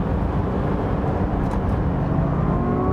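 Ferrari F80 hypercar with 1200hp powertrain accelerating hard at speed, a loud, continuous engine roar with dense low-frequency drone and rising harmonic tones, steady and close throughout with no voices.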